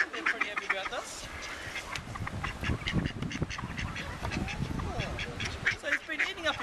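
Ducks quack repeatedly in a busy, overlapping chorus close by a pelican, with a person talking among them.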